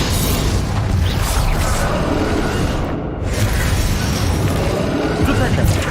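Rapid spell blasts and magical explosions in a Hogwarts Legacy boss duel against Ranrock, a dense, loud continuous roar of bursts and impacts with a brief dip midway, over game voices shouting.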